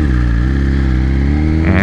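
A BMW M1000XR motorcycle in Race Pro mode holds a loud, close, steady rev with a rich low exhaust tone, rising slightly at the end with a faint crackle of popping.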